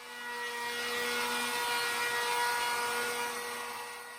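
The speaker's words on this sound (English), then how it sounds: "I'll actually do the 45-degree chamfer on 3 of the edges." A router fitted with a large 45-degree chamfer bit, set below full height, trims plywood edges with a steady, loud high-pitched whine that holds for about four seconds.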